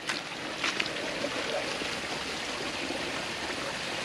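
Crystal-clear water from a natural spring flows and trickles steadily at an off-grid cabin, a continuous close babbling with no voices.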